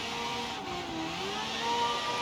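A car engine in a drifting video game revs high and thin at moderate volume, its whining pitch rising and sliding briefly with no talking over it.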